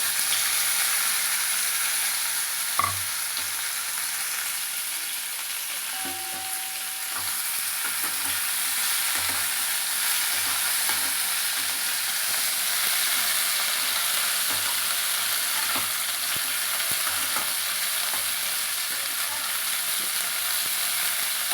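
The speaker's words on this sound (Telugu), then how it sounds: "ఫస్ట్ ఈ కోసుకున్న ఆగాకరకాయ ముక్కలు వేసుకోవాలండి" Cut spiny gourd (aagakarakaya) pieces frying in a pan: a steady, dense sizzle throughout, with a sharp clink early on and occasional faint stirring scrapes.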